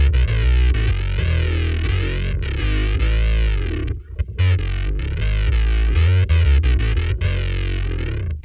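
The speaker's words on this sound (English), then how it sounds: "I need a more distorted version of this 808 that sounds like this." A heavily distorted 808 bass plays through fuzz effects, a thick, buzzing, saturated tone sustained loudly with brief dropouts near the middle and toward the end, with no voices over it.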